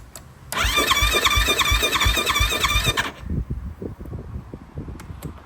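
Fuel-injected Yamaha YFZ450R ATV engine cranking without firing: about two and a half seconds of loud, steady whirring starter motor with rhythmic chugging, then it stops and leaves faint clicks and handling noise, close up and without speech.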